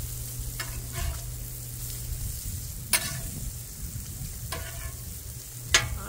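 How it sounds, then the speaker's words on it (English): Bacon sizzling on a Blackstone griddle, a continuous close crackle with a few sharp scraping clicks scattered through it, no talking. "Going to finish cooking off this bacon"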